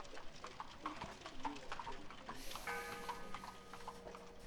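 Horse hooves clip-clop in a steady rhythm in the strategy game Civilization 4 Colonization, faint and close, alongside soft ticking and chiming game sounds.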